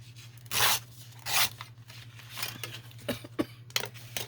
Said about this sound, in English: and then we'll tear around it